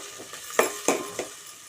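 Onions stirred into oil already heated in a pan, with three distinct sizzling bursts and scraping stirs that are loud and close, then fading; no voices.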